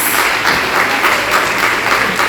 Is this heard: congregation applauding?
yes